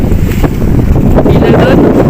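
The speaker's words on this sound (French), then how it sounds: "Et le vent est revenu." Wind gusting across a sailboat at sea off the English Channel coast, a loud, close, continuous buffeting rush over the microphone mixed with the wash of water.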